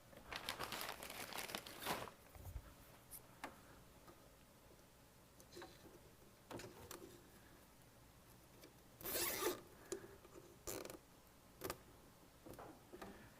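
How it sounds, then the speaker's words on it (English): A zip tie is pulled tight on an anchor in the electrical wiring of a 2026 VRS Swerve 10, producing several quick, close ratcheting zips in separate bursts with quiet gaps and light handling rustle between them. "I'm going to do one more zip tie right before it goes through"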